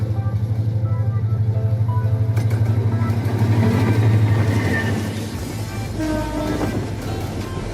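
An intercity express leaves Kamalapur station in Dhaka bound for Sylhet. A loud, close rumble of rolling cars carries a sustained horn-like tone, and the sound eases slightly toward the end.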